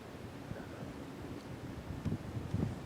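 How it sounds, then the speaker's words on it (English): Wind gusts across open Irish pasture edged by rock walls and briars as a storm moves in, a steady broadband rush with low rumbling buffets against the microphone and no talk. "storm's moving in."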